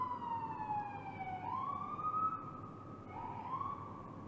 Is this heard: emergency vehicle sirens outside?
yes